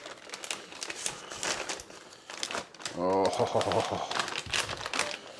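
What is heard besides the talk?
unwrapping smoked corned beef brisket on cutting board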